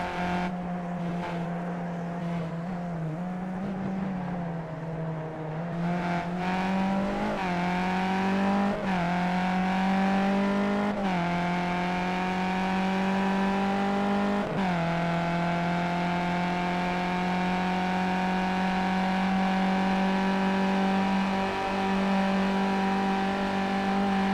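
Race car engines drone steadily in the Skip Barber sim racing game at Bathurst, a loud sustained onboard tone that rises and dips with gear changes, with other cars close by.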